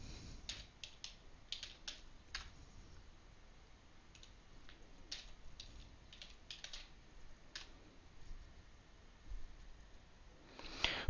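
Quiet typing on a computer keyboard: soft bursts of key clicks in short irregular runs separated by pauses, close and faint, with no talk.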